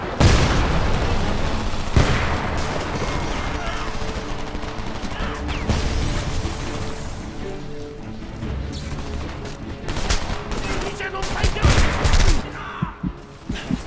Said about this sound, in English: firefights sound chaotic thanks to all the gunfire, explosions, and shouting